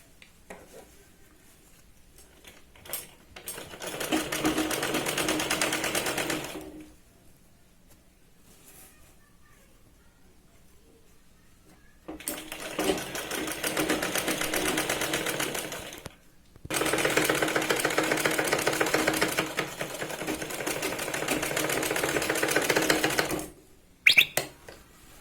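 Sewing machine stitching and interlocking sherwani fabric, running in long steady whirring bursts of several seconds each, separated by quiet pauses with faint handling noises and a brief clatter near the end.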